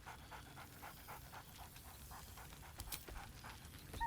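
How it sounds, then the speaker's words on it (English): Scratch, a dog in the video game Baldur's Gate 3, pants steadily in quick rhythmic breaths, with a brief bark-like burst near the end, all at a low, even level. "Scratch barks merrily in something like agreement"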